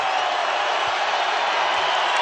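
A sellout crowd of over 15,000 at the Pit in New Mexico cheers steadily through a college basketball game against UNLV, a dense, continuous roar of voices filling the arena without a break.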